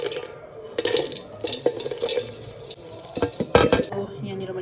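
Fried ingredients are tipped into a pan and roasted with masala for chicken curry, with repeated clanks and scrapes of a spoon against the pan over a light sizzle, loud and close.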